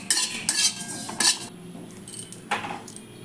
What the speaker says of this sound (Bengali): 1 চামচ জিরে আর 1 চামচ মৌরি ভেজে নিচ্ছি। হালকা ভেজে নিতে হবে।